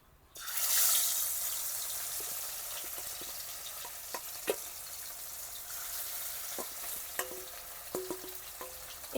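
Pieces of katla fish hit hot oil in a pan with a sudden loud burst of sizzling that settles into a steady, crackling fry, dotted with sharp pops and spatters.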